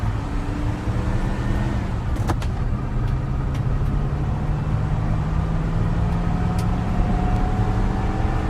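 A car driving in the video game Minecraft gives off a continuous loud engine and road rumble. It runs steadily throughout with faint higher clicks and no voices.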